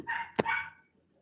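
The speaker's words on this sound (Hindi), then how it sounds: "कुत्ता भौंक रहा है, चला जाएगा" A dog gives a single sharp bark, fairly close and moderately loud, alongside a brief whining tone during a live Awadhi folk-song stream, then quiet.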